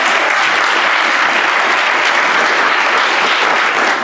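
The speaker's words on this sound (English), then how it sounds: "Okay, give George a round of applause." A room of members at a Rotary club meeting applauds a fellow member, steady loud clapping from a mid-sized crowd sustained for the whole span with no talk over it.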